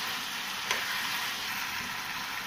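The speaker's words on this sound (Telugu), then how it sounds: "ఇప్పుడు ఒకసారి హైలో పెట్టుకొని ఒక 2 నిమిషాలు వేయించుకొని వాటర్ మొత్తం ఇంకిపోయిన తర్వాత" Ginger fries in a pan over high heat, giving a steady, close hiss of sizzling oil that holds at an even level throughout, with one slightly sharper crackle early on and no voices.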